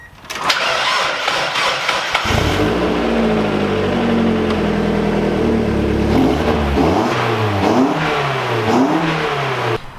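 Lifted Mazda Miata engine cranking over and catching, then idling and revving in rising and falling sweeps through a smaller exhaust, close and fairly loud with no talking.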